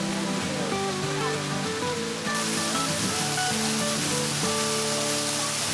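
Faery Falls, a waterfall in a Northern California forest, pours in a steady dense roar throughout.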